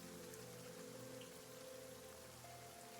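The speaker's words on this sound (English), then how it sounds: "I can actually use this sound effect too, which is heavy rain." Heavy rain used as a sound effect, a steady, even hiss of downpour that stays faint and unbroken throughout, with no voices.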